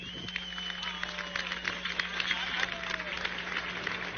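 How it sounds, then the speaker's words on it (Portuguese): An audience gives a forced round of applause, a thin steady patter of clapping set back in the room under a constant hum, with a voice faintly present. "O aplauso forçado foi demais, né?"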